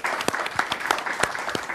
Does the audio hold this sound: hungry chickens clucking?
no